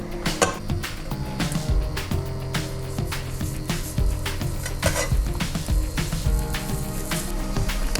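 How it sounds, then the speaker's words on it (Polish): Butter sizzles steadily in a frying pan, a continuous dense crackle with occasional clinks of a utensil against the pan, fairly close and even in loudness throughout. "Jeszcze trochę masełka dodajemy na patelnię."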